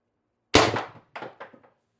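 An Umarex TR50 CO2 air rifle fires a 12.7mm steel ball in one sharp, loud report, followed by a few quick metallic clangs and thuds as the ball strikes a target.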